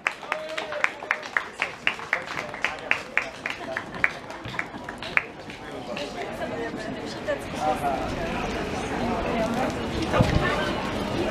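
An audience at a ceremony in Żywiec applauds the mayor and jury, first with a run of sharp separate claps, then building into dense sustained applause, while someone speaks over the opening.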